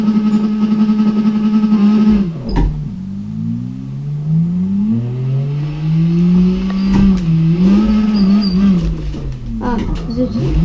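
Engine of the Panther M5 car in the CarX Drift Racing video game on PlayStation, a loud steady drone whose pitch swoops up and down through repeated revving and gear changes.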